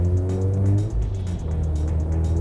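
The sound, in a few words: Mazda RX-8 engine revving through gear changes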